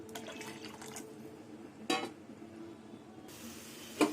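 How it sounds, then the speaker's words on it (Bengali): Water boils in a pan for a hilsa fish curry, giving a faint, steady bubbling hiss with a couple of sharp clicks, and no voices. "কিছুক্ষণ ফুটিয়ে নিলাম"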